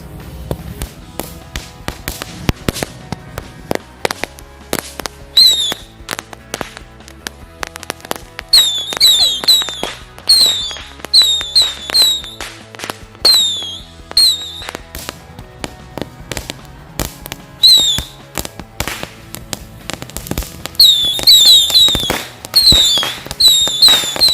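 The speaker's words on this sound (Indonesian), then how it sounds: "Ini mercon luncur kecil guys." Small rocket firecrackers pop and crackle in quick bursts, clustered runs of sharp bangs with brief whistling streaks, fairly close, separated by short quiet gaps.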